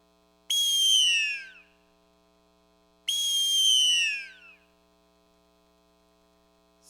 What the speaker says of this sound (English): you're gonna hear the sound that this instrument produces